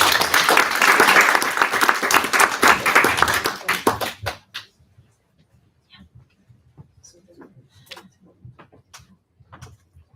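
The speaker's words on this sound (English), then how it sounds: "Big applause." A conference audience gives a burst of loud applause that holds for about four seconds, then fades away. After it, only scattered faint claps and small room noises remain.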